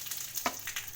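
Curry leaves sizzling as they drop into hot oil already tempered with mustard seeds and cumin, a short burst of crackling fry noise over a steady hiss, close and alone.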